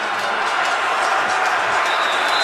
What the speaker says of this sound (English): Crowd erupting.